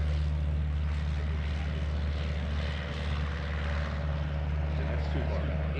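A Piper Cub airplane engine drones during an airshow comedy landing act, a steady, continuous propeller hum held at low power, heard from a distance without a break.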